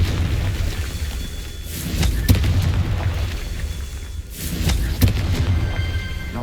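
Confringo fire spells explode in the video game Hogwarts Legacy: several loud, booming blasts at irregular intervals over a rumbling background, each with a sharp onset and a short decay.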